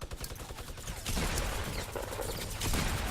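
Rapid gunfire from a burst assault rifle and a submachine gun in a shooter game, dense overlapping loud shots filling the short stretch with barely a gap.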